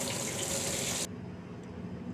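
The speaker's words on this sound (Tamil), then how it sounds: "இப்போ நான் நல்லா தண்ணியில் நல்லா களைஞ்சிட்டேங்க." Groundnuts being rinsed in water in a sink, with steady running tap water for about a second that stops abruptly, leaving a quieter trickle and slosh.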